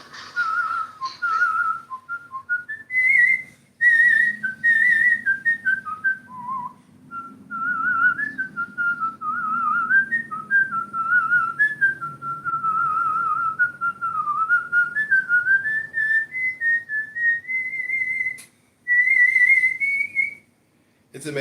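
Someone whistles a meandering, wavering tune at close range, the melody running almost continuously with a few short pauses, and faint background chatter underneath.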